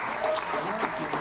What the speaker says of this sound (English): Applause for Muzzman.